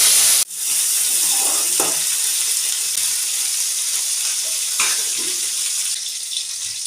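Curry leaves and green chilies hit hot oil in a pan for a chicken fry and set off a loud, steady hiss and sizzle that carries on throughout. The hiss softens slightly near the end, with faint crackles, and no talking.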